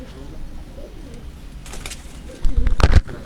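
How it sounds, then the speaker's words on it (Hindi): Pigeons kept by a rooftop pigeon fancier coo softly and nearby in low repeated murmurs, with a burst of louder fluttering or handling noise near the end. "खालिद भाई के जो कबूतर हैं नीचे बैठ के हम आपको उनकी जानकारी देंगे।"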